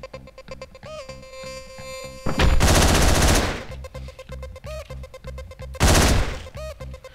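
Assault rifle gunfire from the top-down action game Hotline Miami, heard as loud, dense bursts of rapid automatic shots, two main volleys around a jingling synth music bed, with no talking.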